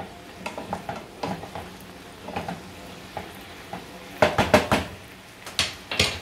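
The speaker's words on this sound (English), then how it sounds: "this just simmers until the mushrooms are pretty much done a little bit" Pepper beef and mushrooms simmer and sizzle in a pan, with occasional stirring scrapes and clinks of utensils against the pan over a steady low frying hiss.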